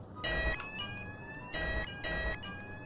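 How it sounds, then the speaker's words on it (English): Elevator alarm bell inside a lift car in the BENO Skyscrapersim building game, ringing as steady buzzy tones in three bursts with short gaps, loud and alone with no talk. "Every elevator that has the indicator on the outside and the floor indicator have this alarm."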